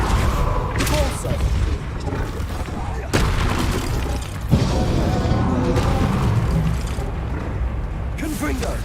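Spell blasts in the Hogwarts Legacy video game, including a Repulso spell among a rapid string of casts: booming, crashing impacts and magical whooshes layered over game music and shouted spell names.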